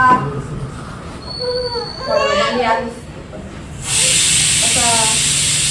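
A pressure cooker in a home kitchen vents steam partway through as a loud, steady, continuous hiss that lasts to the end. Children's voices and chatter come before it.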